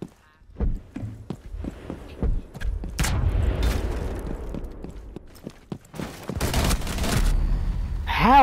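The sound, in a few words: gunfire in Rainbow Six Siege video game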